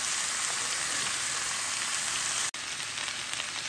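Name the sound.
pumpkin sabzi being stirred in pan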